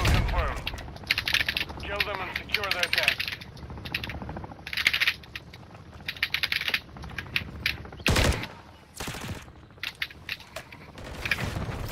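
Machine-gun turret fire in Call of Duty: Modern Warfare 3 during a Kill Confirmed match, rapid bursts crackling through the first seconds, then sharp loud blasts near the eight- and nine-second marks, with game voice callouts over the action.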